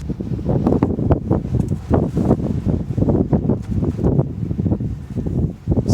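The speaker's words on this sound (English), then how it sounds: "It's very windy," Gusty wind buffets the microphone with constant low rumbling thumps and rustle, loud and close, with no voices.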